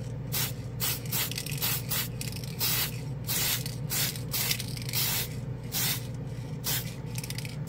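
A Mr. Color spray paint can sprays in a series of short, sharp hissing bursts separated by brief gaps, loud and close throughout with no talking.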